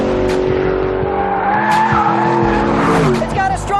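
A Noble sports car driven hard at speed, its engine roaring loudly and continuously as the tires squeal through a corner, with the screech rising toward the end.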